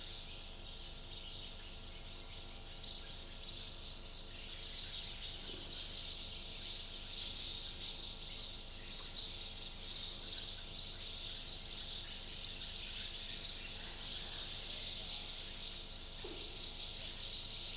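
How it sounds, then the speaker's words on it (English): A steady outdoor chorus of birds singing, with an insect-like buzz in the Himalayas, continuous and fairly even in level throughout, with no talking. "let the bird's sound also be recorded, because they must know that it is recorded in the Himalayas."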